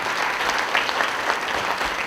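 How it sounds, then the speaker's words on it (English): Audience at a neighborhood watch annual meeting claps for volunteer patrol members, a short burst of steady, fairly close applause from a room of people. "So give him a nice hand of applause."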